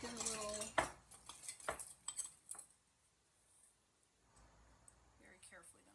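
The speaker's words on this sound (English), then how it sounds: "very carefully going to whisk these together" Mason stain powders whisked together in a small container for a homemade underglaze, making quick light clinks and scrapes of metal against the vessel that fade to near quiet, with faint scattered taps after.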